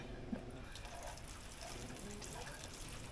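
Water poured onto a potted pepper plant on an allotment, a steady soft gush and trickle running through the whole stretch at moderate level, with faint outdoor background.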